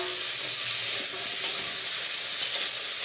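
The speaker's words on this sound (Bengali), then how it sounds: "তো দেখো আমি এটাকে ভেজে নিচ্ছি" A pan of ingredients fries with a steady, close sizzle of hissing oil and a few light clinks of stirring, with no voices.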